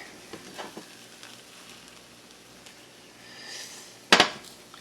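A spatula scrapes around the sides of a pan of sizzling Japanese omelet egg, with soft scrapes and clinks over a steady frying hiss and one sharp, loud metallic clatter near the end.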